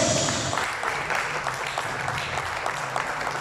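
A church congregation applauds in a Spanish-language worship service, a brief burst of mixed clapping that starts fairly loud and thins slightly, with a faint murmur of voices beneath.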